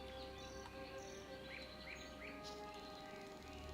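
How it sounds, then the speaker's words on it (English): Forest ambience in World of Warcraft, with a steady bed of cricket-like insect trilling and several short, high finch-like chirps scattered over it, soft and even throughout. "there is definitely a finch in there"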